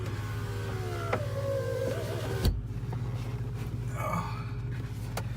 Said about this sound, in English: Get these windows up.